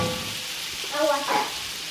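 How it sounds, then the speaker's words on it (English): Shrimp frying in bacon grease in a pan, a steady close sizzle and crackle with a faint voice rising briefly over it. "I've got my shrimp cooking down in that bacon grease."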